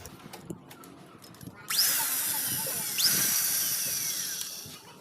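A power drill bores an 8.5 mm bit into the threaded nozzle cap of a grease gun, starting sharply after a quiet lead-in, then whining steadily with a second bite into the metal midway, loud and close.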